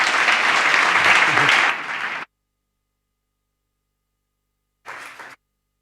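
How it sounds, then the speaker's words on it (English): Audience applauding panelists at the end of an afternoon session on a conference stage, loud dense clapping for about two seconds that fades out, followed by silence and then a short second burst of clapping. "I would like just to ask you for a big applause to our panelists"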